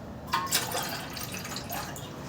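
Water from a glass splashes and trickles into a cooking pot in a home kitchen while Maggi noodles are being made, with a short bright pour followed by softer dribbling.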